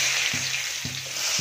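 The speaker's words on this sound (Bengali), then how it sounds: "ডালটা করার জন্য ফোড়নে দেখো সাদা জিরে ফোড়ন দিয়ে দিচ্ছি, একটা শুকনো লঙ্কা, আর দেবো একটা তেজপাতা" Cumin seeds, a dried red chilli and a bay leaf fry in hot oil as a tempering for dal, a close, steady crackling hiss with three soft, evenly spaced stirring knocks.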